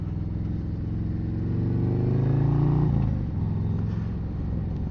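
A 2024 Harley-Davidson Road Glide rides along with a deep, steady engine rumble that swells and revs up in the middle, then drops back to a cruising drone, loud and close with no talk.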